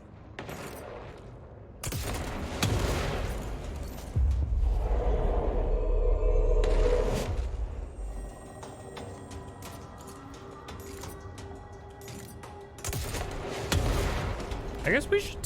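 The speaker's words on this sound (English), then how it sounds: "I really love the delayed effect of like the projectiles impacting and then exploding." Projectiles impacting and then exploding in the video game Control, several sharp booming bursts and crackling detonations spread across the stretch, with a voice talking in between.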